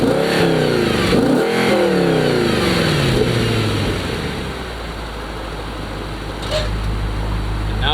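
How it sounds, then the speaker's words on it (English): Audi RS4 Avant B7 with its regular stock exhaust and valves closed, revving hard in a few rising and falling sweeps, then settling into a steady low idle rumble, close and loud with no talking. "So this is with the sport mode off, just the regular exhaust,"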